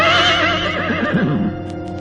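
A horse gives a single loud, close whinny that wavers and falls in pitch over about two seconds, heard alone.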